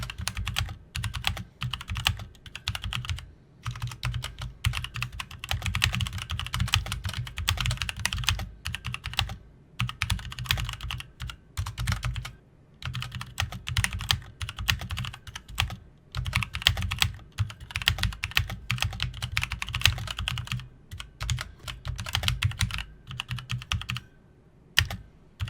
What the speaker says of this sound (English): we'll just do a general typing test and further test the Bluetooth functionality